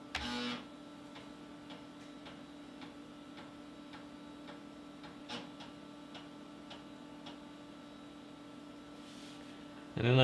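A floppy disk drive writing data ticks in an even, steady rhythm of quiet clicks over a low electrical hum, with a louder mechanical clunk at the start and another at the end.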